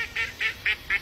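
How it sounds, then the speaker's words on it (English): A duck quacking five times in quick, evenly spaced nasal honks, close and clear, with no other sound. "The damn fucking duck started laughing when I said that"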